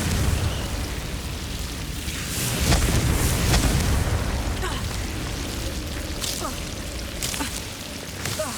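Fiery Confringo spell blasts in the Hogwarts Legacy video game: a swelling boom with whooshing rush and crackle, followed by several sharp bursts and pops over a steady, dense wash of game noise.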